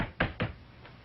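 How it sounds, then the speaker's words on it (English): Two sharp knocks on wood in a 1963 sitcom scene, close and distinct about a fifth of a second apart, followed by a fainter third tap, with no talking over them. "Knock on wood."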